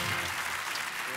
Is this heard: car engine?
no